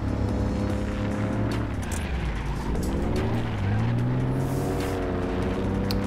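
A Toyota GR Yaris in a driving simulator game revs hard through a corner in third gear, the engine note dipping and climbing in pitch as it winds up, loud and continuous with no talk.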